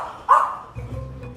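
A dog in Malaysia, near houses built over the sea, gives a single sharp bark close by, followed by a low background rumble.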